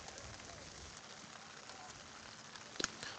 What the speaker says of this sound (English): The rain is lightening up a little bit.